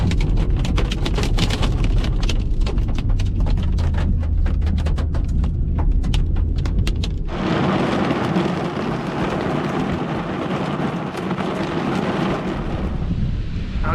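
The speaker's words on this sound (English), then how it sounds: "Out here in the horrible weather, the pouring rain, I found another one." Heavy pouring rain outdoors in Montenegro, a dense, steady hiss that runs the whole time with wind buffeting the microphone, close and loud, and no voices.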